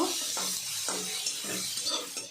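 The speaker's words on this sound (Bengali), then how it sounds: "ওই ডিম ভাজার তেলে পেঁয়াজগুলো ভেজে নেব।" Onions frying in oil left over from frying eggs, a soft sizzle under repeated rhythmic scraping strokes of a spatula stirring in the pan, close by.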